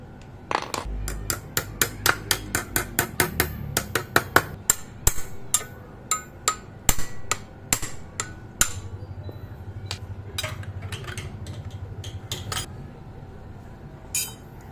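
A hammer taps repeatedly on the CVT clutch nut of a Yamaha NMAX scooter: a fast run of sharp metallic knocks, loud and close, then sparser strikes spaced out over the rest of the stretch.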